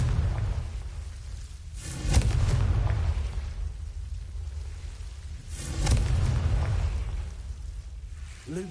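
Two heavy booming blasts from the Confringo fire spell in the Hogwarts Legacy video game, each a broad loud burst that rolls off slowly, spaced a few seconds apart over a low rumbling game backdrop.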